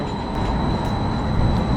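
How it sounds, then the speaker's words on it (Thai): A free city tram circling town passes nearby with a loud, steady rail rumble and a thin high whine held throughout, with no voices. "นี่ก็จะเป็นรถรางรอบเมืองนะคะ ซึ่งนั่งฟรี"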